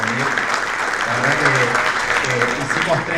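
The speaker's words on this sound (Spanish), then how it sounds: "Un gran aplauso a los panelistas que nos acompañan hoy." Audience at a panel discussion on digital transformation applauding the panelists, a steady wash of clapping from a crowd, with a voice speaking over it.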